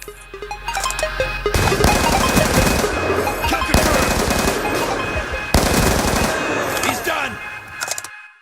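Automatic fire from an MTAR assault rifle in Black Ops 2 crackles in loud, rapid bursts that run almost nonstop after a brief quiet opening, broken by short pauses between volleys.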